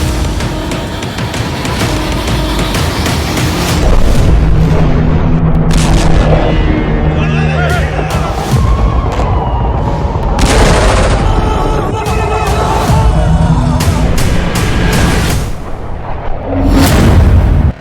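Bombs and artillery strikes hitting Gaza: a dense, continuous roar of heavy booms and blasts with crackling bursts layered throughout, loud and sustained, with faint voices mixed in.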